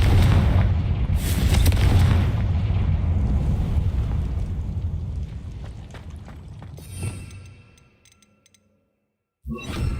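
A Confringo spell blast in Hogwarts Legacy, heard as a loud, rumbling boom that sustains and slowly decays over several seconds, cuts to silence, then resumes at the end.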